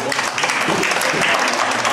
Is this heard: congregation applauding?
yes